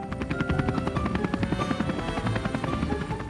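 A Super Wings toy rescue helicopter, Dizzy, takes off, a close, steady rhythmic rotor chop with a whirring engine tone holding at an even level.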